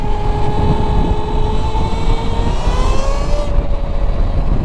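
Electric Grom motorcycle with a stretched swingarm, no clutch, pulling hard in second gear: a steady motor whine rising in pitch as it accelerates, continuous and close over heavy wind and road rumble for the whole stretch.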